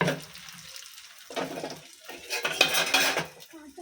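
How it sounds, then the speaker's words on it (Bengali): A spoon pokes and scrapes at lachha semai in a metal pan, giving uneven clinks and scraping bursts in a few clusters, fairly close, with soft background kitchen noise between strokes. "চামচ দিয়ে একটু খুঁচিয়ে খুঁচিয়ে দিতে হবে"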